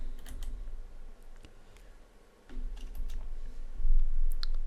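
A computer keyboard clicks in quick bursts of light, crisp taps, with a short pause partway through and a low background hum underneath.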